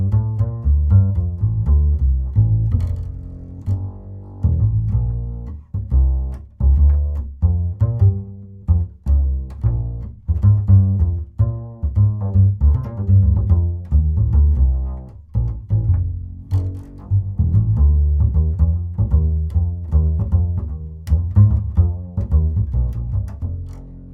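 Upright bass recorded in stereo with two Neumann TLM 103 microphones, playing a walking line of deep, resonant plucked notes in a steady rhythm, close and full, with no voices.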